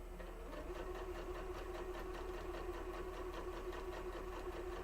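A sewing machine stitches a fabric tote bag in a steady, continuous mechanical whir with a fast, even needle rhythm, close up and alone throughout.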